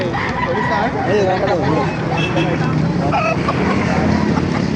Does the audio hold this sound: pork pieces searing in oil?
no